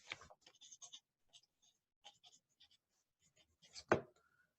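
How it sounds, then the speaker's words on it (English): A pen writes numbers on paper by hand, producing soft, close scratching strokes in short irregular bursts with quiet gaps, ending in a firmer stroke. "So let me write that down."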